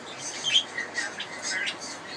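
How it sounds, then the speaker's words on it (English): A small pet budgie gives several short, high chirps and tweets close by, in quick uneven bursts over faint room noise. "This is the most adorable little bird."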